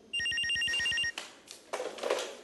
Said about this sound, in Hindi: लेकिन बज तो फोन रहा था।